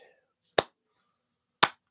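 Two sharp, isolated hand claps about a second apart, slow and deliberate, in an otherwise quiet space.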